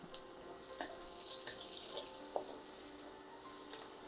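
Garlic and onion fry in oil in a pan for cooking beet greens, a soft steady sizzle with scattered small pops and light clinks, faint and without talk.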